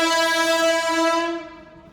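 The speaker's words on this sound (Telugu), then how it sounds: "మీరు చూస్తున్నట్టయితే అక్కడ ట్రైన్" A train at Cherlapally railway station sounds a loud, sustained horn, one steady blaring tone that holds and then tapers off, heard on its own without talk.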